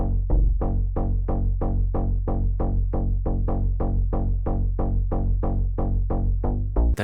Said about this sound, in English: The bass is from Pigments and it sounds like this.